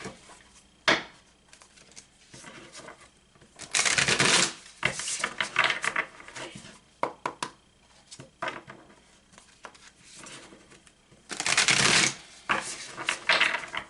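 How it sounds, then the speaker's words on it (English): Crisp riffling bursts of tarot cards being shuffled, two long flurries with scattered taps and clicks between them, close by with no talking. "That was a nice little shuffle."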